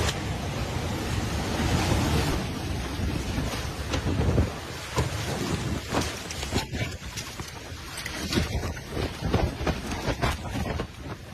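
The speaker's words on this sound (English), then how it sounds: "Water surged through the streets of Istanbul like a raging river, fast, violent, unstoppable." Floodwater surges through the streets of Istanbul during a violent storm, a loud, continuous roaring wash with bursts of turbulent splashing and wind throughout.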